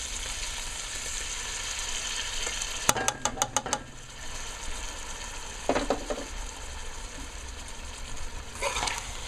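Ground seasoning frying in a pot for gilbaka fish curry: a steady close sizzle throughout, broken by a quick run of sharp clinks and scraping stir strokes, then a few more scrapes later.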